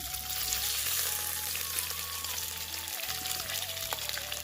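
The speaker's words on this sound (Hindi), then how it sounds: "तो यहाँ पे छोटे छोटे पीस में मैंने पनीर भी काट दिया है। अब इसको फ्राई करेंगे हम।" Small cut paneer pieces frying in oil left over from pakoras, an even continuous sizzle with faint crackle, close and moderately quiet, with a low hum beneath and no talk.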